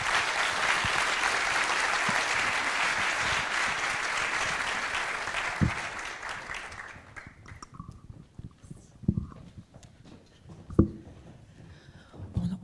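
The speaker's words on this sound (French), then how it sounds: "Un tonnerre d'applaudissements pour nos panélistes" Thunderous applause from a keynote audience in Paris for the panelists, a loud, dense wall of clapping that fades out after about seven seconds, leaving scattered thumps and faint room noise.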